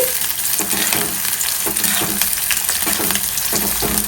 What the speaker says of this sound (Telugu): ఇప్పుడు ఆనియన్ని పొడవుగా కట్ చేసుకొని బ్రౌన్ కలర్ వచ్చేంత వరకు వేయించుకుందాం